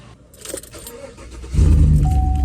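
Keys jangle briefly up close, followed by a 2016 GMC Sierra 1500 pickup with a 5.3L engine starting and settling into a steady low idle, with a thin chime tone sounding over the engine.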